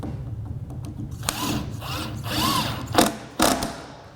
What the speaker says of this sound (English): Now let's install fastener number 4